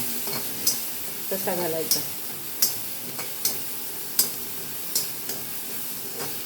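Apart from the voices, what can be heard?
potatoes sautéing in pan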